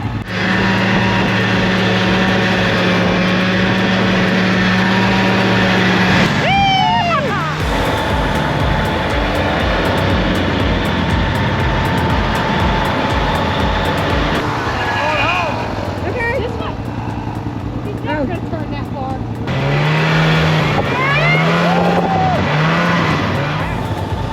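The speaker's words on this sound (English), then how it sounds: "We have a third snowmobile that's like 50 years old." Old snowmobile, about 50 years old, driving with its engine droning and revving in changing pitch, rising and falling through several surges over the whole stretch, close and loud with voices talking over it.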